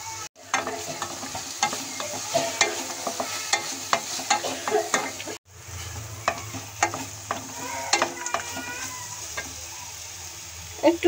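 A spoon stirs salt, turmeric and spices into an orange and grape chutney in a pan, making intermittent close scraping strokes over a soft sizzle, with a brief break midway.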